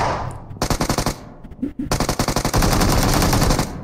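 Shotgun fire in a video game, a rapid series of loud close blasts in quick bursts, with a short break before a dense continuous volley.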